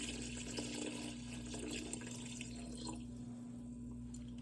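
Wine pours steadily into a carafe for sangria, a soft continuous liquid splash with light dripping, heard up close and alone over a faint background hum.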